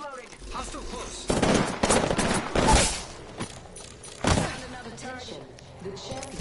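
Enemy gunfire in a video game: loud bursts of rapid shots in several volleys over a few seconds, with a spoken voice in between.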